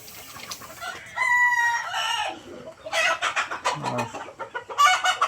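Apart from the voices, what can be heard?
farm chickens clucking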